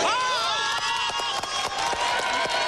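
Gymnastics arena crowd at a balance beam final reacting to a 9.9 score: a steady, loud mass of cheering and applause with scattered sharp claps and whistles, continuous throughout with no speech.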